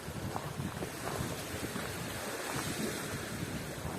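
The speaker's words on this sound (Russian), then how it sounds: "Посмотрите, какие волны," Waves break on a lake shore on a sunny, windy day, a continuous faint wash of surf with soft repeated splashes under wind noise and no voices.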